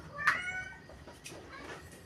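A caged pet cat gives a short meow near the start, followed by fainter mewing sounds over low background noise.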